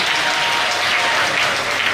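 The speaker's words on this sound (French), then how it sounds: "je voudrais qu'on applaudisse très fort" An audience in a hall at a Mother's Day celebration in Agboville applauds loudly and steadily, a dense wash of clapping with no pauses.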